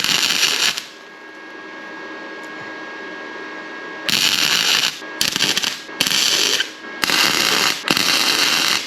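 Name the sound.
welding a bearing puller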